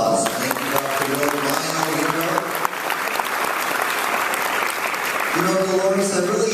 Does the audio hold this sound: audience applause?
yes